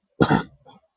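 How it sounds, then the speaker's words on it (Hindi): A single rough throat-clearing cough, close and fairly loud, followed by a softer short grunt. "तो थोड़ी खांसी है"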